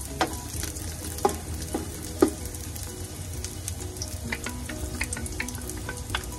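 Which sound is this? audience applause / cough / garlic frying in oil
garlic frying in oil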